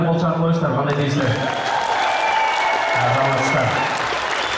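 Audience applause at an Ak-Talaa talent show, a steady wash of clapping from a crowd running throughout, with speech and some tonal sound layered over it.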